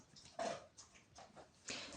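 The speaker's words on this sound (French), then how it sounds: "vous avez maintenant en stéréo le chien qui mange" A dog eats close by, making irregular wet chewing and crunching bursts with small pauses between them. A faint whimpering tone runs through, and there is no talking.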